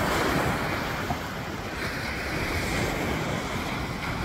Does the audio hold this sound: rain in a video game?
no